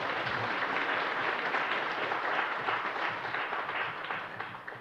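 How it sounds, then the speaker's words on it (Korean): A church congregation claps to welcome a visiting missionary to the pulpit during a Sunday afternoon service, a steady, full round of applause from many hands at moderate distance, gradually thinning toward the end. "박수로 환영하도록 하겠습니다"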